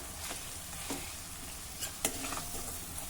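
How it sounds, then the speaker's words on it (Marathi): Tomatoes cooking in a pan with pav bhaji masala for a pavta masala curry, a soft continuous sizzle with occasional sharp clicks and scrapes of stirring, quiet and close with no voices. "आता आपल्याला हा टोमॅटो जरा मऊ होईपर्यंत हे शिजवून घ्यायचं आहे"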